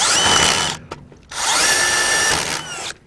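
A power drill drives a Speed Binders Torque Drive load binder while trailering, whirring in two strong bursts, close and loud, separated by a short pause with a faint click.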